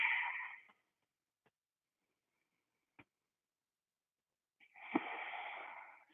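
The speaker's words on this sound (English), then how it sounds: "Ujjayi breathing." Audible ujjayi yoga breathing in a seated pose: a soft, hissing, ocean-like breath at the start and another after a quiet pause, close and alone.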